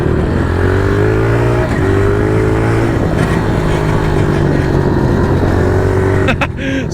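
A pit bike with a broken clutch blares loudly and continuously as it is ridden hard along trails, its engine pitch stepping up and down through revs before cutting out near the end.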